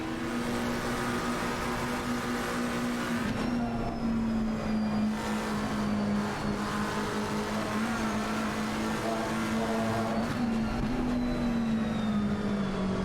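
A race car engine in the Assetto Corsa racing simulator drones steadily during a crash replay, holding a loud, continuous note with slight dips and rises in pitch and no talk.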